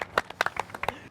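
Several separate claps in an irregular rhythm over about a second, a small, sparse clapping rather than full applause, close and fairly quiet, with no talking.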